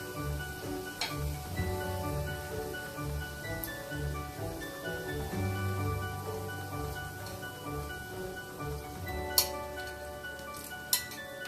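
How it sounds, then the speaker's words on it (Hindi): Rice poured into a pan of light-brown fried onions makes a steady, soft pattering sizzle over a low hum, with two brief clinks near the end. "अब हम इसमें डालेंगे चावल।"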